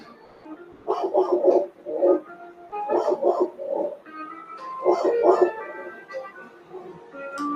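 A dog in the background barks in short bursts and gives a few whimpering yips, the sounds coming in clusters at mid-level loudness with brief pauses between them.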